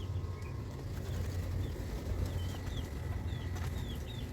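Chickens on a rural Filipino property, a faint clucking and short chirping calls scattered over steady low outdoor rumble, with a sudden knock at the very end.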